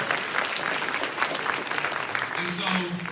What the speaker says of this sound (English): Can we get a round of applause for all of our sponsorships?